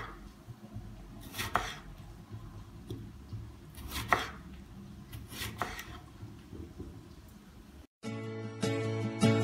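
Green tomatoes sliced with a knife into thin rings, giving a few crisp cutting strokes at a steady pace over a faint kitchen background, close and fairly quiet, with no talking.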